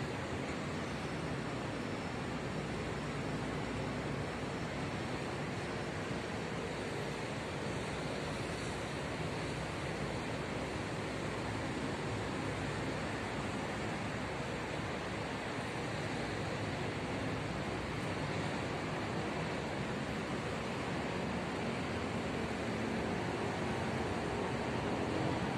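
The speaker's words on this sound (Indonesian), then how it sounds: "Dan di sini juga nonton berasa anginnya sepoi-sepoi atau bisa dibilang kencang" Strong wind sweeps steadily across the highest upper-tier stand of a Jakarta stadium, a constant loud broadband rush with no breaks and no voices.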